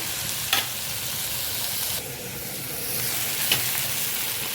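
Whole spices and coriander sautéing gently in a pan on a low flame make a soft, even sizzle, broken by a few brief stirring scrapes.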